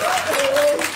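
Applause from a church congregation after a healing, a dense wash of clapping filling the moment, loud and close, with a sustained tonal voice or note running beneath it.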